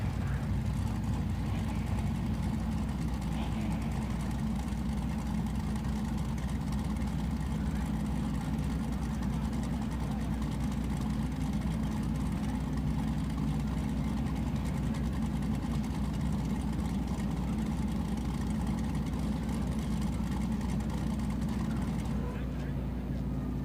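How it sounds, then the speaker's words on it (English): A track sweeper drives down the right lane of a drag strip, a steady low engine rumble that continues without a break, with voices talking over it for much of the time. "Just doing a quick track sweep in the right lane just to make sure everything's going to work out good."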